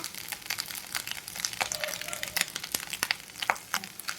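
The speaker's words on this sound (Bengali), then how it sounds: "বন্ধুরা এখন আমরা একটু ভালো করে মিশিয়ে দিচ্ছি" Fried rice with coriander leaves and fried long beans being stirred in a pan, giving a soft continuous sizzle broken by scraping, clattering strokes of the spatula, close and moderately loud with no speech.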